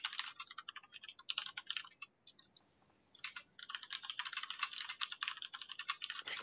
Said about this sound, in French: T'entends qu'il tapote sur ton clavier.